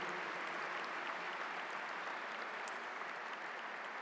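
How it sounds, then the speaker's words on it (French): Sustained applause from a ceremony audience for an organist, a steady, dense wash of many hands clapping throughout without pause. "Je pense que ça mérite une bonne main d'applaudissements."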